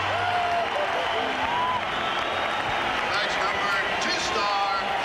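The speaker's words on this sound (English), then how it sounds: "Blaine Locker comes out to accept the applause of the fans." Crowd noise from hockey fans filling an NHL arena during a 1995 Devils–Bruins game, a steady, dense roar of cheering and applause throughout, with a faint announcer's voice in the background.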